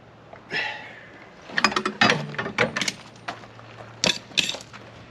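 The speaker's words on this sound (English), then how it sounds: "I am still tightening a bolt." A ratchet clicks in short bursts while tightening the crank bolt on an abandoned 440 Mopar engine in a Jaguar MK10, close metallic clicking strokes with brief pauses between.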